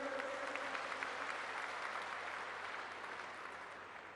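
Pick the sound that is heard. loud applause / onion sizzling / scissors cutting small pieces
loud applause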